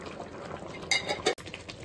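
Veg biryani with meal maker stirred in a pot with a spoon, a short run of close scraping and soft clattering against the metal with one sharper knock.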